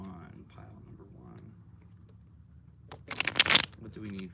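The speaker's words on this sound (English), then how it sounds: "Do 2 more shuffles, and then we'll see." A deck of cards for a spiritual reading is riffled in one short, crisp shuffle after quiet talk, with a voice continuing afterward.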